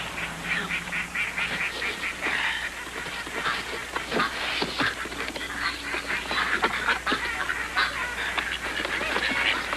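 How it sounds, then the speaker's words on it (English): Ducks being let out into a new home, a busy mix of repeated close quacks and honking calls that keeps up throughout, with no talk. "come on, just let the ducks out"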